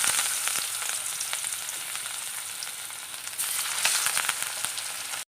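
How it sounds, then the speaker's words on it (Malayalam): Seer fish frying in a pan, a steady close-up sizzle with constant crackling and popping of hot oil throughout. "അപ്പോൾ നമുക്ക് മീനൊന്ന് വറുത്തെടുക്കാം"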